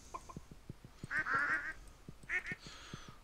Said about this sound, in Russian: Утки уже подросли.